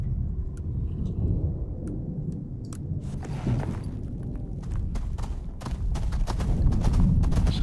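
A storm with thunder in the survival game Icarus, a low rumbling roar with scattered sharp cracks building to a louder, denser stretch of thunder near the end.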